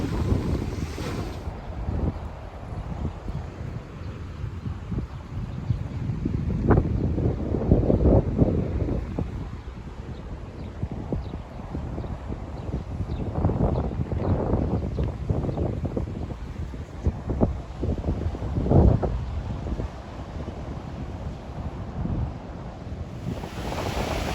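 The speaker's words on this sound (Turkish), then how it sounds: "Rüzgardan belki sesim gelmemeyebilir." Steady low rumble of wind buffeting the microphone on a beach at Göynük Beldibi, Antalya, with gusty surges throughout and a faint wash of surf beneath.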